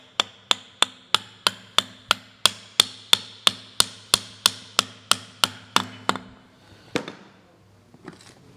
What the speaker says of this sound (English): so I'll just tap it with a soft hammer.